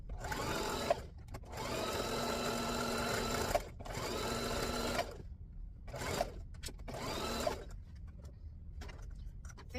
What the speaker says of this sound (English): I think I've sewn all the pieces together.